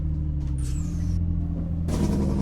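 Air brakes on a heavy truck in Euro Truck Simulator 2: two sharp pneumatic hisses, one with a thin falling whistle, over a low idling diesel rumble, heard close.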